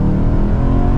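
A 2009 BMW M3 Coupe engine drones loudly under acceleration, a steady, close, heavy mechanical tone with strong low harmonics held for about a second.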